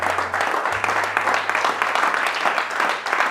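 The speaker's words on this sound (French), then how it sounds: "Lève-toi et acclame le Seigneur." A church congregation claps together in sustained, dense applause that stays loud and even throughout, with a low steady hum beneath.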